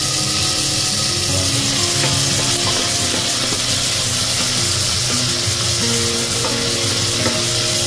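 Garlic and tomato fry in a pan for a chicken sotanghon dish, giving a steady, loud sizzle throughout with occasional stirring scrapes and no voices.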